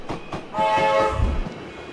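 A train rumbles with a sustained horn blast in a tactical wizard video game, the horn holding steady for about a second over low rolling rail noise, with no talking.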